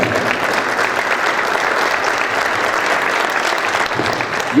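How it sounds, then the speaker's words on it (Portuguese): Audience applause at a lecture, steady dense clapping from a large crowd filling the room evenly for the whole stretch, with no voices rising above it. "Cristina Belanese, nossa presidente do MACS, também uma salva de palmas para ela."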